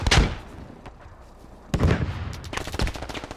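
Gunfire in the military shooter Squad: a loud close burst at the start, a lull of distant shots, then a second rapid volley of heavy automatic fire rattling close by.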